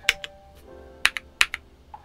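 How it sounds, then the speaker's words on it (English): Typing on a Monsgeek M2 1800, an aluminum CNC mechanical keyboard: a few crisp, close keystrokes in small clusters with short gaps between them, alone in a quiet room. "today we took a look at the Monsgeek M2 1800, an aluminum CNC keyboard that QMK via out of the box"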